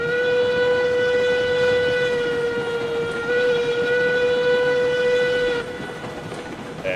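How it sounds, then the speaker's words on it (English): A steady steam locomotive whistle in the video game RailRoads Online blows continuously for several seconds, a bright multi-tone chord echoing through hills, then cuts off abruptly, leaving a softer rumble of train noise. "let's see what this whistle sounds like in the hills here"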